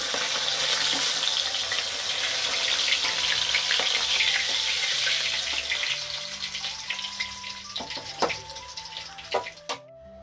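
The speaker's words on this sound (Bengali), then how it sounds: "লাল লাল করে মাছগুলো ভেজে নেব।" Rohu fish frying in oil for a red curry: a dense, loud sizzle fills the first half, then thins into scattered clinks and scraping as the pieces are lifted out, with no voices.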